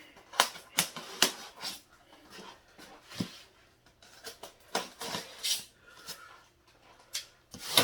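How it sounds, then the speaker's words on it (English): Sharp scraping and slicing bursts of a blade cutting packing tape on a cardboard box for an Iron Studios Sentinel diorama, a dozen quick close strokes in irregular clusters with quiet gaps. "we're just going to cut the tape from here, here,"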